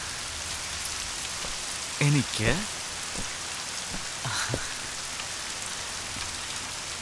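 Steady rain falls throughout a scene in a Malayalam film, a continuous soft wash of drops under occasional short spoken lines from a man and a woman.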